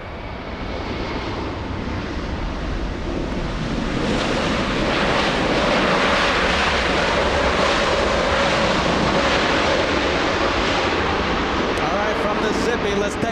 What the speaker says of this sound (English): Let's take a look at the Southwest 737 already on his takeoff roll.